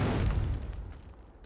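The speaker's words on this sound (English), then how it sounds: "here are 32 gas canisters, and when we explode this, we get an explosion like this" Explosion of 32 gas canisters in the video game Astroneer, a heavy booming blast that decays over about a second, with no voices.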